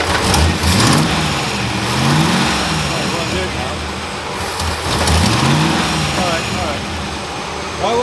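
A Rover 3.5L V8 in an Austin-Healey Frogeye Sprite under troubleshooting revs loudly in two rising and falling swells over a rough idle, with people talking nearby.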